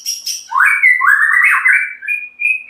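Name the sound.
tame white-rumped shama (murai batu) calling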